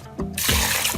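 Water is poured into a mixer jar over mint, black salt and sugar for a mint margarita, a short, close, splashy gush that starts abruptly and runs steadily to the end.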